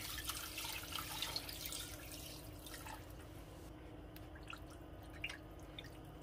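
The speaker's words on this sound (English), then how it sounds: "You're going to fill it with water just to cover, no more than that." Tap water runs and splashes into a cooking pot on the stove, filled just enough to cover braised pork riblets. It is a faint, steady trickle with scattered drips and no talking.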